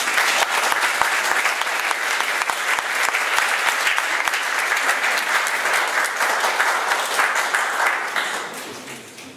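An audience at an artist talk for Dana Claxton gives a steady, full round of applause, dense clapping from many hands sustained for about eight seconds before tapering off.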